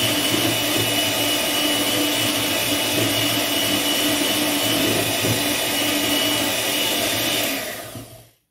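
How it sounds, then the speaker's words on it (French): A Moulinex blender whirs steadily while blending bean batter with onion, garlic, pepper and water, a loud continuous motor drone that holds for about seven seconds before spinning down and stopping. "Maintenant, je vais passer au moulinex."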